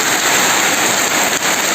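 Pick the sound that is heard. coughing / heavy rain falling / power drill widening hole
heavy rain falling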